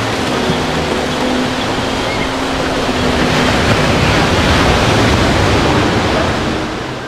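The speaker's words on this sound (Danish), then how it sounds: "Især at ride helt ude i det lave vand med sjask og sprøjt." Faroese ponies wade through shallow sea water on a cold beach, a steady loud wash of splashing and surf-like noise filling the whole stretch with no voices heard.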